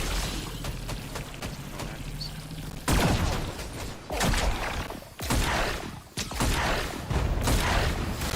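Rockets and explosions in a video game go off in a series of sharp, loud booms that fire in bursts, with rumbling blasts and clatter between them.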